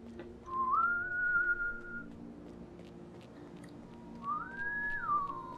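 A person whistles a tune in two separate rising, held phrases with a pause between them, over low background music from the Hitman: Blood Money game.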